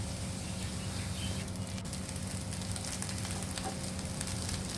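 Yellow and red capsicum, onion and rice stir-fried in a pan, with a steady close sizzle and a few sharp scraping stirs partway through.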